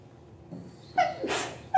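A single short sneeze bursts out in a quiet classroom, a brief sharp huff followed by a faint second catch.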